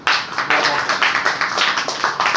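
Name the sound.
audience clapping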